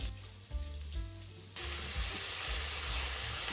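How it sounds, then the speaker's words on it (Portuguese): Sausage browning in a thin drizzle of olive oil in a pan for risotto, sizzling softly at first and then jumping to a loud, steady frying hiss, with no voices. "Só com um fiozinho de azeite, a gente vai dourar a linguiça."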